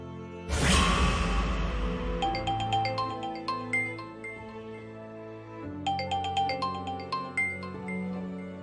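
Phone ringtone of an incoming call in a Tamil TV drama, a bright chiming melody of repeated tonal notes that follows a sudden whoosh, plays twice with a short pause, and stays clear without talk.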